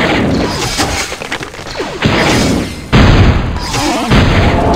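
Loud, dense blasts and crashing impacts from battle explosions in the real-time strategy game Star Wars: Galactic Battlegrounds, a cannon and turret being destroyed, several bursts following one another with a few sharp onsets, and speech mixed into the noise.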